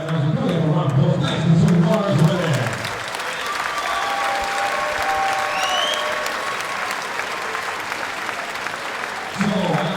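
A crowd at an MMA fight applauds and cheers in a continuous dense wash of clapping, while a commentator talks over the first few seconds and again at the end.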